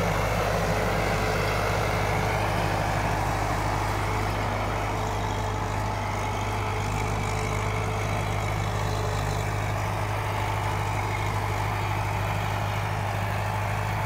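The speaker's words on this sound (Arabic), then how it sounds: "أنا مع جرار روماني 93" A Romanian 93 tractor engine runs steadily at close range, a low constant diesel drone with a mechanical rumble that holds without a break for the whole stretch, and no voices are heard.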